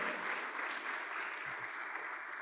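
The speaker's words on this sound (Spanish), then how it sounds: "Dele fuerte las palmas al Señor por ello." A church congregation claps for the Lord during a Spanish-language service, a soft, steady wash of palms heard at some distance, even and continuous throughout.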